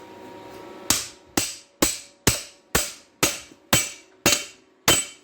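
A piece of pipe is tapped down onto the driveline of a 2003 Dodge Ram 3500 during a hanger bearing job, heard as nine sharp, ringing metallic knocks at a steady, even pace, close and alone.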